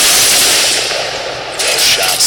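Minigun fire in Fortnite: a loud, dense stream of rapid shots that rattles on continuously for a couple of seconds, with a brief swell near the end.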